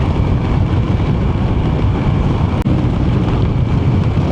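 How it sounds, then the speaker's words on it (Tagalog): Strong wind buffets a microphone during a rainy ride, a dense low roar with one sharp dropout midway, steady and loud throughout with no talking. "Lakas ng hangin."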